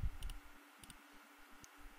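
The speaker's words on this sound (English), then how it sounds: "this right clicking is gonna kill me" A computer mouse is right-clicked during a video game, giving a quick pair of sharp clicks followed by a few sparser, faint clicks over a quiet background.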